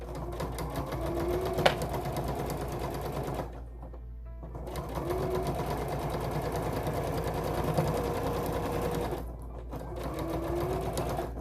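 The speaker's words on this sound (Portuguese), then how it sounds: "Eu tô costurando com manta junto." A sewing machine stitches fabric layered with quilt batting on a long stitch setting, running in steady rhythmic bursts with short pauses between runs, close and fairly quiet.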